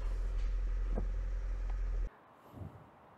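An inexpensive Japanese-import JDM project car idles with a loud, steady low engine drone for about two seconds, then the engine sound cuts off abruptly, leaving only a faint quiet shuffle.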